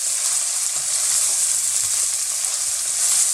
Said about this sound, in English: So I'm just going to give it a good proper mix.